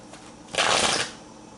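A single quick riffle shuffle of a deck of cards, a short crisp burst of fluttering paper lasting about half a second, close and fairly loud against a quiet background.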